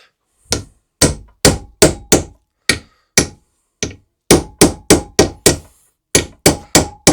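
Gearbox bearings are hammered into a Triumph T140 engine with loud, close, sharp blows. The strikes land in quick bursts of three to five, separated by short pauses, and no one speaks.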